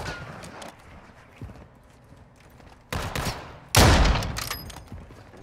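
Sniper rifle shots in a fast-paced shooter game, two sharp loud cracks close together near the end, following quieter background game noise.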